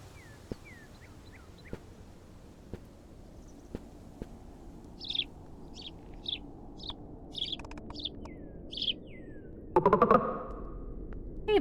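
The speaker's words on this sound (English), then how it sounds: "Hey, bird. A house sparrow." Series of short chirps and tweets from a house sparrow, moderately close, with several repeated calls and a brief rougher burst near the end, no talking over it.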